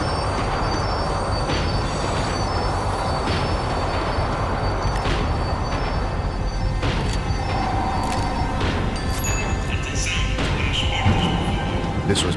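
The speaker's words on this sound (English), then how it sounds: "The tram was slowing down" A tram in the video game Max Payne 3 slows down, its rail wheels rumbling steadily with clanks and occasional metallic squeals, close and continuous throughout.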